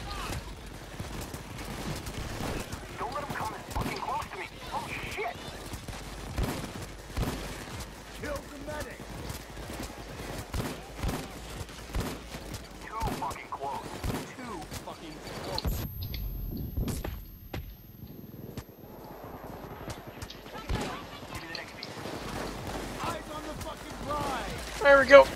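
Gunfire in PayDay 2 during the Elephant biker heist, scattered bursts of shots and impacts over several seconds amid game noise, with someone talking throughout and a brief quiet stretch partway.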